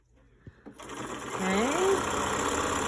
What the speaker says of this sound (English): I'm gonna sew right here, making a little casing for the elastic.